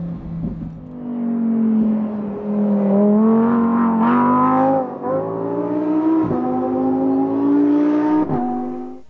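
A Lamborghini Huracan Evo sports car engine revs and drones loudly up close while drifting, rising and falling in pitch through several gear changes.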